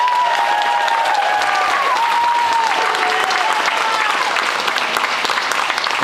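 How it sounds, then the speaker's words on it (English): An audience at a school signing day applauds in steady, dense clapping that runs the whole time, with a faint whistle-like tone and murmuring voices underneath. "Let's give her a round of applause."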